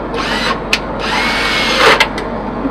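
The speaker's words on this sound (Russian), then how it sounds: "Потом при помощи шуруповерта" Cordless screwdriver drill driving screws into a toilet lid: a close, steady motor whine for a couple of seconds, broken by brief pauses and short sharp clicks.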